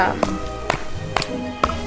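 Axe chopping a tree in the Don't Starve game: four crisp, evenly spaced wooden thunks about half a second apart, with a quiet voice in the background.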